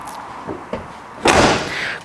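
Door of a 1979 Dodge Lil Red Express pickup truck shutting, with two light clicks of handling first, followed by one solid, close slam that rings briefly.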